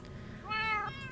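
A Minecraft cat gives one clear, fairly loud meow lasting under half a second, standing alone over a low, even background hum with no voices.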